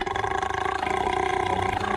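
A cartoon female character lets out a long, loud, sustained burp with a rough, roaring tone lasting about two seconds, with no talking.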